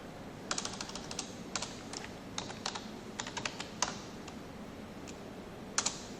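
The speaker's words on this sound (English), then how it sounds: "For that you have to type cd C# program and enter C# program." Someone typing a command on a computer keyboard: scattered, light key clicks in short irregular clusters, close but soft, with no talking.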